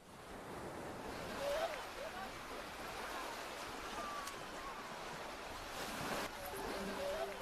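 Surf washing onto a sandy Indian Ocean shore, a steady broadband wash with moderate, continuous loudness and some wind, no clear individual wave crashes standing out.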